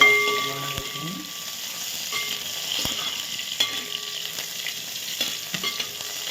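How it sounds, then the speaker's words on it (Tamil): Onions and green chilies frying in a pan for a goat meat curry, a steady sizzle with occasional stirring scrapes and clicks throughout, fairly close, with no talk. "வெங்காயம் கட் பண்ணி வச்சுருந்தோம்னா அந்த வெங்காயம் பச்சை மிளகா லைட்டாக ஃப்ரை"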